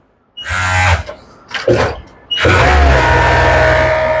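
Sewing machines whir loudly in the sewing section of a garment factory. Two short bursts of motor noise stop and start before the machines settle into a steady, continuous drone close by.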